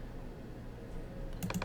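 A few quick keystrokes on a computer keyboard enter a number in Anime Studio Pro (Moho), a short burst of close, faint clicks near the end after quiet room tone.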